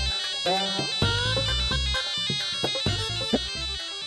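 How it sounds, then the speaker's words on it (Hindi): A phone ringtone plays as a melodic electronic tune with bright, repeating tones and a steady pulse, fairly loud and close, with no talk over it. "पप्पी सर का फोन।"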